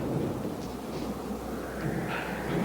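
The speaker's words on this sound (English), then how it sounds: "It's thunder." A low, steady rumble of thunder rolls on without pause, broad and fairly loud, with a faint hiss of rain around it.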